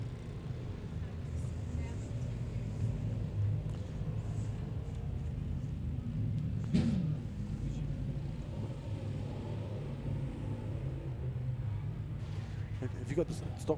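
Stock cars line up at a night meeting in Gisborne, their engines a distant, steady low rumble under faint crowd noise and a brief nearby clatter midway.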